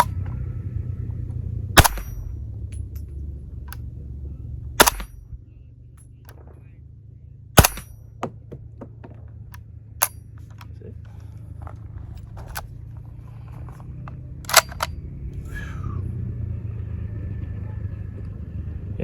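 Sharp suppressed gunshots from a firearm fitted with an Otter Creek Labs Milkman or Deadair Wolfman suppressor crack out at irregular intervals, about six distinct shots over a low outdoor rumble with faint background talk.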